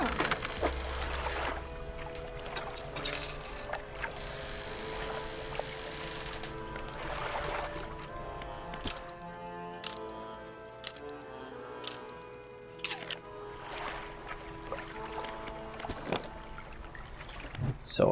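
A fishing boat engine hums steadily in the video game DREDGE. It sits under game music with tonal notes and chimes, and brief splashy water effects come through now and then.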